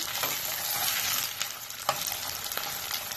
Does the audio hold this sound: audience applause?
no